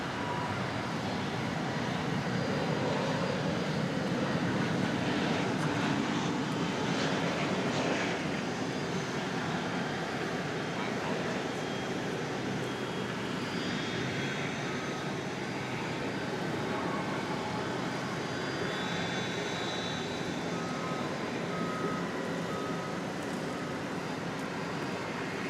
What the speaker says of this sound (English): we have another American Airlines MAX coming in. It's a MAX 8 arriving from the Motor City of Detroit.